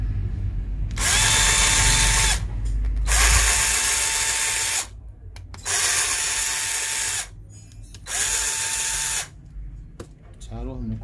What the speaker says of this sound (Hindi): इसके जो चारों स्क्रू हैं वो खोल लेते हैं